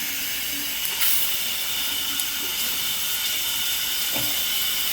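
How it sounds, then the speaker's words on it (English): A matte black Brantford shower head spraying water in jets from the middle, a constant close hiss with a few faint knocks and ticks underneath, no voices. "Now you've got nothing but jets in the middle."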